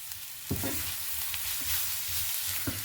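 Tomato masala being stirred in a frying pan for Angamaly-style pork roast: a continuous broad hiss of frying with a few dull scrapes and knocks of the spoon against the pan, close and fairly loud.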